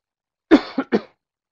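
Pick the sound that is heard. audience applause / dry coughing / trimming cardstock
dry coughing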